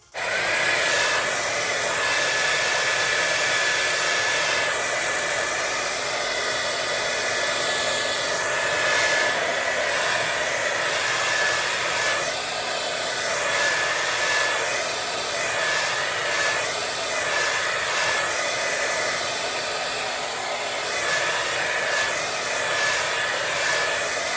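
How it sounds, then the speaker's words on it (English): A hair dryer blows continuously and loudly at close range, drying hair spray on a lace frontal wig, its steady whooshing roar wavering slightly as it moves. "Now I'm going to take the blow dryer and kind of dry the spray a little bit so it gets sticky."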